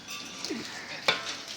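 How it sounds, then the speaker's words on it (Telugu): Mustard seeds sizzling in hot oil for tempering mango pickle, a soft steady hiss with a faint clink of a utensil partway through and a low voice murmuring under it. "మనం ఇప్పుడు ఈ పచ్చడికి తాలింపు పెట్టుకుంటున్నాం కదా"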